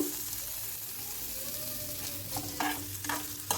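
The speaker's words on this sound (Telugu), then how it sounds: "ముందుగా అయితే ఆనియన్స్ వేస్తున్నాను ఒక టీ స్పూన్ ఆయిల్" Chopped onions fry in a teaspoon of oil in a pan on the stove, a steady low sizzle with a few stirring scrapes near the end.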